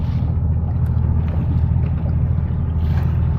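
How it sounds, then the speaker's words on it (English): A small boat's engine rumbles steadily, deep and constant, while it rides the wake of a giant cargo ship off Singapore, with faint splashes and no voices. "So there's a giant ship coming, so I want to be away from the fuel boat and all this wake."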